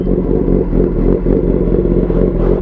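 A 1000cc motorcycle engine with a cammed, lopey idle runs loud and close, a steady low-pitched drone with slight uneven pulsing and a faint rev near the end.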